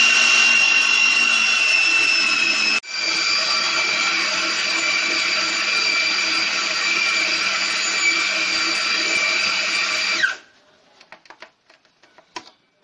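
An electric blender whirs loudly and steadily while mixing gola kabab mixture with thick yogurt cream. The motor dips briefly early on, runs for about ten seconds, then cuts off, leaving a few light clatters and taps.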